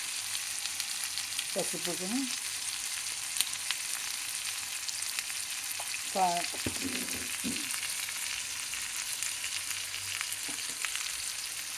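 Spices and tomato sizzle steadily in hot oil for a malai kofta curry, a constant close frying hiss with brief stirring, while someone talks quietly over it.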